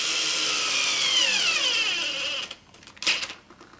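A screw is driven into a saddle tree while assembling a saddle kit, probably with a power driver: a steady rising whine for about two and a half seconds, then a short burst near the end.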